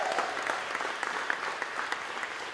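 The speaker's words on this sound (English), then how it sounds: "Give them the biggest round of applause." Audience applauding at a labor council spring awards dinner, a steady wash of many hands clapping throughout, moderately loud and continuous with no talk over it.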